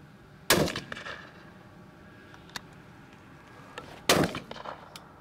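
Two sharp shotgun blasts ring out a few seconds apart while shooting at crows over a maize field, each followed by a short tail of echo over a quiet outdoor background.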